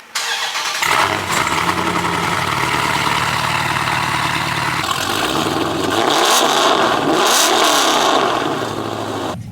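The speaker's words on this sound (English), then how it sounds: "This car is extremely loud now. It's almost obnoxious." A loud, straight-piped Dodge Challenger Scat Pack 1320 engine cranks and roars to life, then idles with a rough rumble before several sharp revs rise and fall close up.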